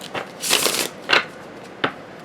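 Tarot cards being shuffled in a few quick riffling bursts, close and crisp, with short pauses between.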